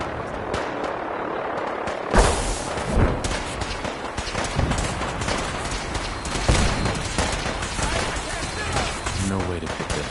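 Video game gunfire, dense bursts of shots and booms layered over a busy, noisy background throughout, fairly faint.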